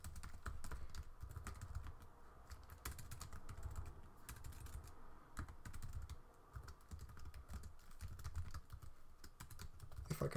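Quiet, steady typing on a computer keyboard while writing JavaScript test code, a continuous patter of soft key clicks with no talk.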